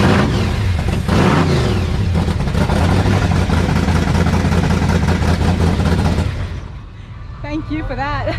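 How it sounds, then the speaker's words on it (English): Big block engine of a hot rod or custom car at a Goodguys rod and custom show at Heartland Speedway, loud rumbling revs and idle filling most of the clip before dropping away, with a voice talking over it. "now we're gonna hear it. And why would I ever say no to hearing these big engines roar"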